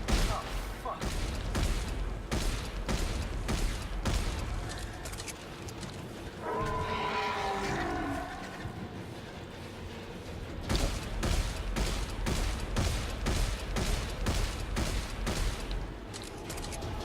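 Rapid bursts of gunfire cutting down Necromorphs in Dead Space 3, loud and close, coming in long repeated volleys with a growling creature and someone talking under the shooting.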